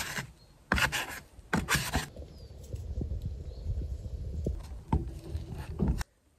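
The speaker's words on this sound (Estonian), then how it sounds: "Ja nüüd ma topin selle liimi ja saepuru segu siia põranda auku." Glue and sawdust paste being pressed and smeared into a hole in a laminate floor, giving rough rasping and scraping strokes in short bursts, then a steadier close scratchy rubbing.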